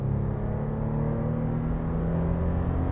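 A 2014 Toyota FJ Cruiser in two-wheel drive accelerating hard from a standstill toward 60, its engine droning low and steady from inside the cabin with no one speaking.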